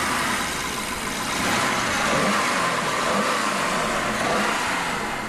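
Twin-turbocharged 4.4-litre V8 of a 2012 BMW 650i Cabriolet: a loud, steady engine roar under load with a gentle swell in the middle, heard alone without talk.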